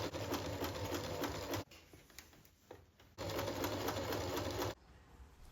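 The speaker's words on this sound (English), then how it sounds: "I then sew them together normally all the way around the edge along their 1/2 inch seam allowances." A sewing machine stitches fabric seams along a half-inch seam allowance for a flag, running in two steady, loud bursts of about one and a half seconds each, separated by a quiet pause.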